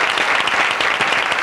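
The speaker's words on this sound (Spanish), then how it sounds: "Un aplauso, claro." Studio audience applause on a Spanish television interview programme, as a guest is welcomed. Dense, even clapping fills the whole short stretch at steady strength, with no speech over it.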